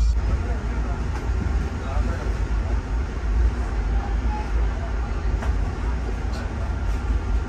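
Trivandrum-Shalimar Express passenger train rolling along, a steady loud rumble of wheels and carriage noise throughout, with faint clicks and rattles over the continuous drone.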